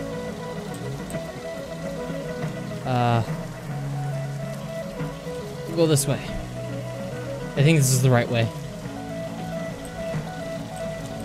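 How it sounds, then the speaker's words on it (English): Rain patters on a car in a driving game, a steady wash of drops under engine drone, while a person talks intermittently over it. "Feel the rain."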